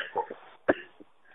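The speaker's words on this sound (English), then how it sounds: "I'm really coughing my guts up." A man coughs over the phone in short, harsh bursts, two or three rough hacks close to the phone, with brief throaty sounds between them and no talk.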